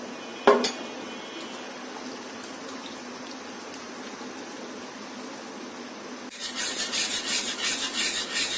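A custard powder mixture with milk and sugar for an eggless caramel bread pudding is stirred with a whisk, making a soft, continuous scraping rasp after a sharp knock, then turning into louder, quicker scraping near the end.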